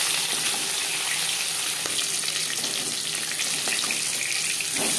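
Chitol fish head frying in hot oil, a steady dense sizzle with faint crackles and small clinks, continuous and fairly loud throughout without any voices.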